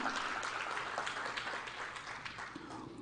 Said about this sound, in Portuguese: Salva de palmas ao Senhor.